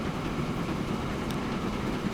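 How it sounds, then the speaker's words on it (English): A freight train rolls past in Transport Fever 2, a steady broadband rumble with faint rail clatter holding constant throughout, no voices. "I've just realised that's a freight train too"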